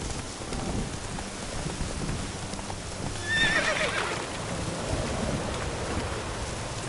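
A horse in a PS4 video game neighs once with a bright whinny midway through, over steady clip-clopping hooves and a rain-like patter.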